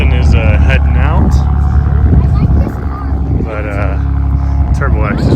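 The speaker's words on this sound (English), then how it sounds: "We got the mic off so you guys can hear the exhaust a little better." A loud, close Saab 900 engine revs repeatedly, its exhaust note sweeping up and down in pitch with a deep, steady rumble underneath.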